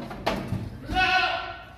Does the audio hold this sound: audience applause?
no